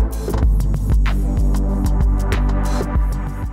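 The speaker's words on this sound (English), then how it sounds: "So here's without the lo-fi compressor. And here's with." A drum beat from a Roland SH-4d synthesizer groovebox plays through its lo-fi compressor effect, producing loud, thudding, throbbing kicks with crisp, squashed hits in a steady, pumping rhythm.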